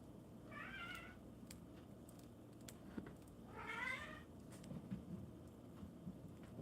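A cat meows twice, in two clear drawn-out calls separated by a few seconds, over a steady noisy background with no talking.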